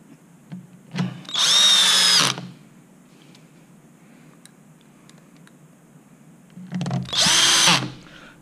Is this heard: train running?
no